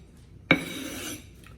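A traditional fillet knife is drawn once across a whetstone, giving a sudden scraping stroke with a metallic ring that lingers briefly before fading into quiet.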